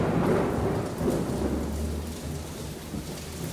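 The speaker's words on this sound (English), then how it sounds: "And now it's starting to rain." Steady rain falling in a storm with deep rumbling thunder, a continuous dense wash of drops with a low roll underneath, fairly loud and unbroken throughout.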